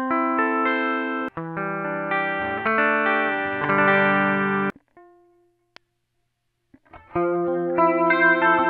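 A Gibson Les Paul Special with P90 pickups plays through a bypassed chorus pedal, ringing chords and single notes that break off into a near-silent gap around the middle before the playing resumes; no talking.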